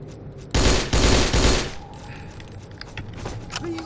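A video game sniper rifle fires in two loud, sharp cracks close together, each with a ringing tail. Softer clatter and small mechanical noises follow.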